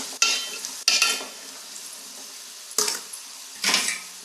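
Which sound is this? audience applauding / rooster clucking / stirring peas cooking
stirring peas cooking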